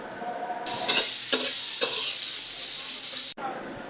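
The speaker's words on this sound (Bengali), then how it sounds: "পেঁয়াজগুলো ভাজা হবে।" Onions dropped into hot oil in a pan for khichuri burst into a loud, close sizzle that holds steady, with a few stirring scrapes before it cuts off abruptly.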